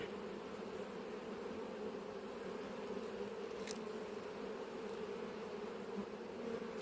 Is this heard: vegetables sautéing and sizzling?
no